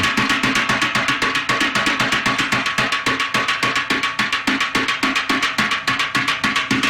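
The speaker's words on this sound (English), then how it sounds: "Actually, this is the sound of a duck." Rapid, steady slapping hits of a duck's feet on a snare drum, evenly spaced at about six per second, loud and alone with no voices.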